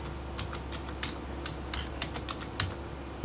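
A computer keyboard being used to type a folder name: a steady run of light, quick key clicks with a few sharper taps, set against a constant low hum and no voices.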